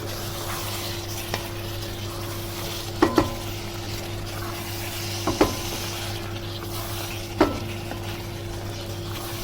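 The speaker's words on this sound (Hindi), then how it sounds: "अब इसके अंदर हरी मिर्च डाल के हमने अच्छे से भूनना है" Green chillies frying in a chicken karahi, a low steady sizzle beneath a constant hum, broken by a few sharp metal clinks of a stirring utensil against the pan.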